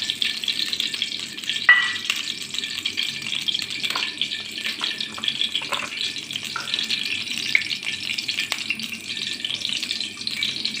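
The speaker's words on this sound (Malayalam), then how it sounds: "സൺഫ്ലവർ ഓയിലാണ് ഞാൻ വറുക്കണേ." Banana pieces frying in hot sunflower oil in a wok, a steady bright sizzle that runs throughout, broken by occasional sharp crackles and pops.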